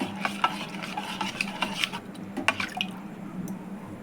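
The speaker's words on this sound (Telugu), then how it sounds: "బాగా కలపాలి." A spoon stirs spicy ginger and black pepper soup with turmeric in a pot, producing steady scraping and liquid sloshing over a low simmering bubble, close and fairly quiet.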